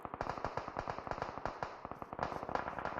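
Rapid crackling pops from grenades exploding in a Clatter of Clans finals match, a dense rhythmic string of sharp bursts like firecrackers running steadily throughout without speech.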